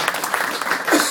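Audience applause at a Pakistani political talk or speech event, a steady broadband patter of clapping filling the whole moment with some mixed voices underneath.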